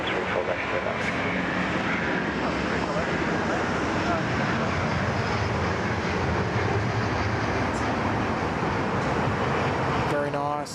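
China Eastern airliner at Sydney Airport, a loud, steady jet engine roar filling the whole stretch, heard from fairly close, with a faint trace of talk.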